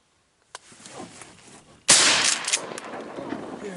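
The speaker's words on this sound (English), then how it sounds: "ton of shooting out on the big lake" Gunfire from duck hunters out on a big Minnesota lake: one crack, then a louder burst of several rapid shots with lingering outdoor rumble, moderately distant and with no talk.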